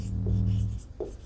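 Chalk or marker scratches briefly across a board during a physics class, two short strokes over a low hum, near and fairly clear.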